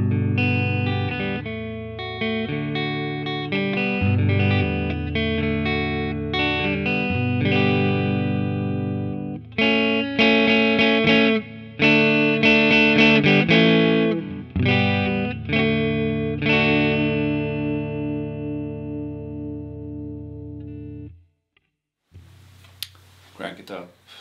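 Electric guitar through an Electro-Harmonix Hot Wax pedal, Hot Tubes side on a low setting, with mild overdrive strums chords and riffs at moderate volume, slightly gritty, continuous until a short break near the end.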